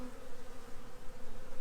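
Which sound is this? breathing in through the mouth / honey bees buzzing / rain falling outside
honey bees buzzing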